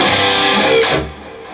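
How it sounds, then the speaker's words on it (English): An electric guitar strums a song with string mutes, giving short, choppy muted strokes, close and fairly loud, for about a second and a half. "Now the down up's going to be string mutes"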